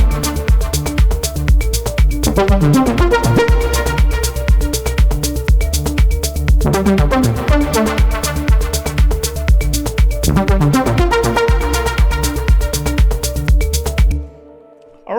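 A full electronic track plays with synth lead lines from a Moog Sub37, Diva and Wavetable on top of a steady beat and bass, loud and continuous, then stops abruptly near the end.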